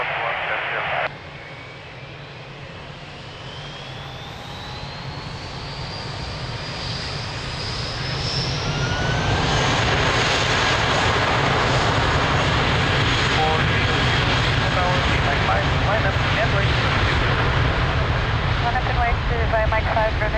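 At Lisbon Airport, an airliner's jet engines spool up into a loud, building roar with a rising whine as it rolls for takeoff, while air-traffic radio chatter plays over it.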